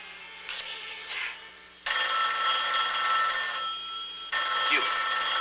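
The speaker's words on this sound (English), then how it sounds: "Answer that phone." An old telephone rings in a dramatized radio-style episode, two long, loud, steady bursts of electric bell ringing, close by, with brief talk before the first ring.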